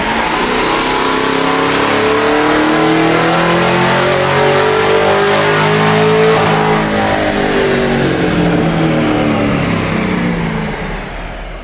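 A supercharged car engine on a dynamometer, fitted with a carbon fiber supercharger lid, revs hard from steady load near 2,000 RPM, its loud rising pitch climbing and sweeping upward before easing off at the end, with no talk.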